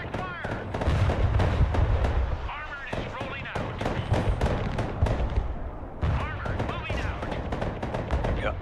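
Direct gunfire in the military strategy game Broken Arrow: rapid, loud bursts of shots and booming impacts over a rumbling battlefield, with radio-style voices talking over the fire.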